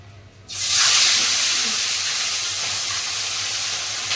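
Fish sizzling as it hits hot oil in a frying pan, starting with a sudden loud hiss that settles into a steady, bright, close frying crackle.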